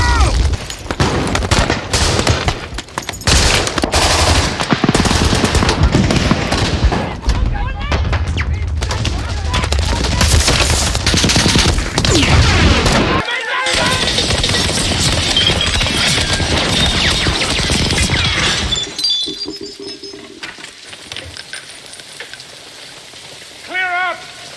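Dense World War II small-arms gunfire from war films: rapid rifle and machine-gun bursts crackle continuously and loudly in a sustained fusillade, easing into scattered, quieter shots near the end, with shouting voices mixed in.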